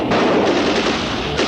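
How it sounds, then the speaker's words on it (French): Sustained gunfire during a shootout in the 1987 action film Hollywood Cop, a dense, continuous loud barrage of overlapping shots with no pauses, filling the whole stretch. "fusillade"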